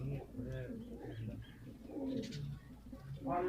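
Ferozpuri pigeons coo in soft, repeated low throaty phrases close by, while someone speaks over them.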